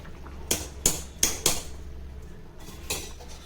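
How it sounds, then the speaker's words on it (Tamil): Rice goes into a pot of hot water for brinjal pulao, with sharp metallic clinks of a utensil against the pot: four quick close strikes, then a couple of softer taps. "இப்போ இந்த ரைஸை நம்ம இதில் சேர்த்துடலாம்."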